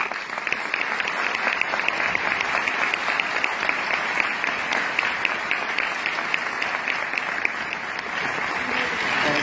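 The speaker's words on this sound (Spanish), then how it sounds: "dense un aplauso." A large audience at a writing contest award ceremony in Bogotá claps steadily and loudly for nearly ten seconds, a thick continuous wash of hands without any break.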